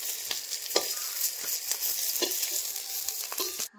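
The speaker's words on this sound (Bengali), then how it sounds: "লাল লাল করে মাছগুলো ভাজা হয়ে গেছে" Fish sizzling as it fries in oil in a karahi, with a steady crackling hiss and a few louder scrape or stir clicks, close and unaccompanied by talk.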